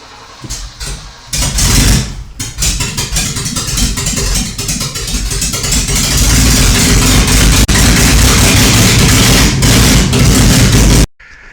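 A Ford Granada engine cranks with a few stuttering attempts, then catches and runs loud and close, settling into a steady, rough idle with rising intensity before cutting off abruptly near the end.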